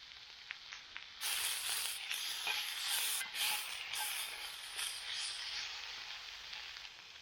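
Pork belly and gochujang sizzling in a pan at a camp cookout, a loud steady hiss that rises suddenly and holds with small crackles throughout, close up and without talk.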